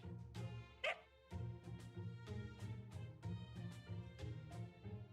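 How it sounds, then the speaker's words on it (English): Cartoonish dog barks and yips from the game Fate/Grand Order, a series of short repeated bow-wows over a steady background music loop, fairly quiet. "I like all the dog sound effects. Bark, whimper"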